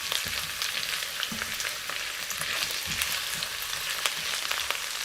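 Chicken and bitter gourd fry in a pan with a steady, close crackling sizzle, and occasional soft stirring scrapes run through it.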